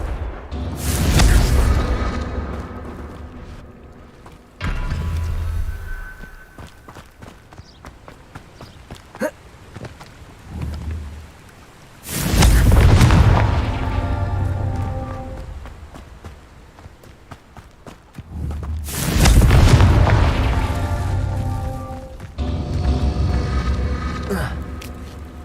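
Repeated Confringo fire-spell explosions in the video game Hogwarts Legacy, several heavy booming blasts with rumbling tails spaced through the stretch, interleaved with quieter spell effects and a voice calling out spell names.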